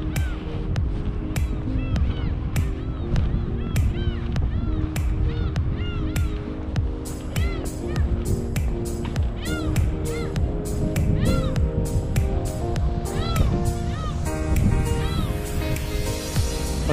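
Seagulls call loudly and repeatedly near the Wolmido lighthouse path by the sea in Incheon. Their sharp cries come in a steady series over outdoor background noise.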